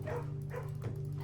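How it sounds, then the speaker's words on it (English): A dog in the video game Blue Prince gives short yips and soft barks, three brief bursts over a steady low game music hum. "Pet dog."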